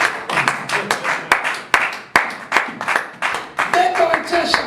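A congregation at a church service claps in acclamation of the Lord, with loud, rhythmic, evenly spaced hand claps that ring out close by, mixed with cheering voices and a brief sung or whistled tone near the end.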